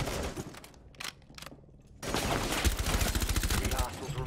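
Bursts of rapid automatic gunfire from a Rainbow Six tactical shooter game, loud and dense, with a lull before a sustained stretch of firing over the last half.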